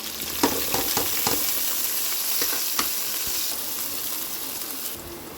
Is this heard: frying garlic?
yes